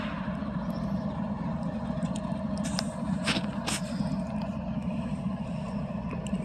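CSX coal train locomotive engines move through Terra Alta, West Virginia at night, a steady heavy rumble with faint scraping squeals rising over it.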